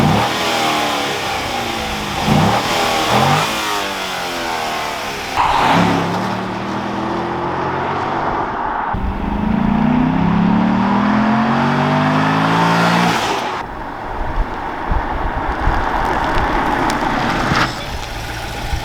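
A 2004 Cadillac CTS-V V8 on its stock air box revs up repeatedly, each throttle blip rising and falling in pitch, loud and close, with a longer sustained rev near the middle and no talking.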